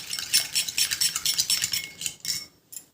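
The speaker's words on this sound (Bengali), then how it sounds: "তাই এর মধ্যে কাঁচা দুধটা দিয়ে দিলাম, দিয়ে ভালো করে এটাকে মিশিয়ে নিতে হবে" Raw milk gets stirred into a homemade face pack mixture in a small bowl, with a spoon clinking and scraping rapidly against the sides in a quick rhythm. Close and crisp, with no voices.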